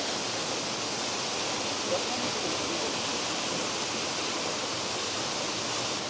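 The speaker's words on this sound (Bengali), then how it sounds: "এটা হলো সেই হিস্টোরিক্যাল ওয়াটার ফলস, যেটার নামই দেওয়া হয়েছে মন্দাকিনী ওয়াটার ফলস।" The Mandakini waterfall in East Sikkim roars as a steady, dense broadband rush of falling water, loud and unbroken throughout with no pauses.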